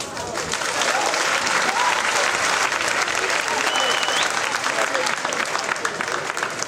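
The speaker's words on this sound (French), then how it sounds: "Normalement, ça s'acclame." Conference audience at an Ecobank event gives sustained, dense applause, many hands clapping steadily at an even loudness throughout, with no voices standing out.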